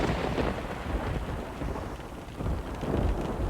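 A thunderstorm with rain in the X-Plane 11 flight simulator, a dense, loud wash of rain and low rumbling thunder rolling continuously, with no voices.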